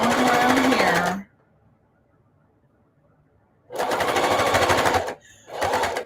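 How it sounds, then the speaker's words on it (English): A sewing machine runs in two loud, steady bursts while edge stitching around a denim journal cover made from upcycled jeans, the first about a second long, then a quiet pause, then a longer run with a brief stop and restart. "So I'm just edge stitching, going around here."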